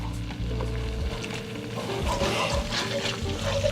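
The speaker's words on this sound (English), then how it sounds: "we just want to go ahead and whisk this around, you know, for about 30 seconds" Cajun butter sauce is whisked in a hot pan. A soft scraping stir runs over a steady low sizzle, close and fairly quiet, with no talking.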